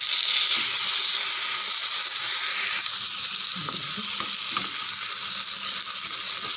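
Green chillies and a single tomato sauté in hot oil in a pan for coconut thuvayal, a steady bright sizzle with occasional soft stirring scrapes, close and continuous with no talking.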